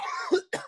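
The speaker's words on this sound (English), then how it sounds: "there's a lot of coughing" Two quick, close coughs, the first harsher and throatier, the second shorter, with a brief gap between them.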